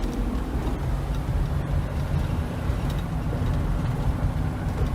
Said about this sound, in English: let's listen to this road noise